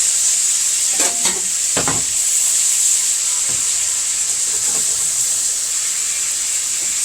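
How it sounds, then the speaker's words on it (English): Steak searing in a hot pan gives a loud, constant high hiss with a few brief clatters of handling near the start, close and unbroken, with no talking. "So let's keep this steak searing right here."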